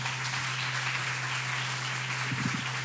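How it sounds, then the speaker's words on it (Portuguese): Church congregation applauding after a cantata, a faint, even patter of clapping from a distance over a constant low electrical hum. "Vamos dar uma salva de palmas para eles, irmãos?"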